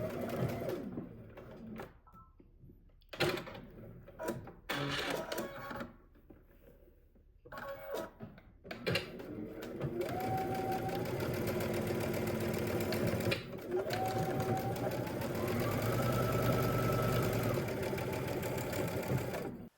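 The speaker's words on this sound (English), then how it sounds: "Then we're going to start again at the other dot and sew all the way up." Sewing machine stitching a skirt seam from a McCall's 8558 three-piece pattern; a few short starts and stops give way to a long, steady, close mechanical whir that runs for many seconds, with no talking.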